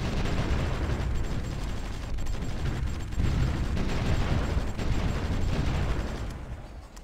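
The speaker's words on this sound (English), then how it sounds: "Oh, they do have artillery now." Artillery fire in a Stalingrad battle in Supreme Ruler Ultimate makes a dense, continuous roar of booms and rumbling blasts that stays steady and loud before easing off at the end.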